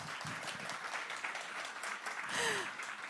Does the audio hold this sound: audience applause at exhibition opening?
yes